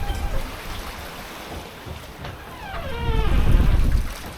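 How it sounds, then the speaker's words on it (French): Steering gear on a sailboat creaks in drawn-out rising squeals while the boat runs at about five knots through big waves under reefed sails, with water rushing and wind noise swelling around it. "il y a mes directions qui grincent toujours un peu"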